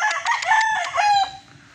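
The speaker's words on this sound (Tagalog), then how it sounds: "Puging manok ni El Bimbo" A gamefowl rooster crows loudly and close by, one long strained cock-a-doodle-doo with a rising and falling pitch, tapering off at the end.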